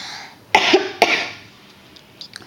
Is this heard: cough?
yes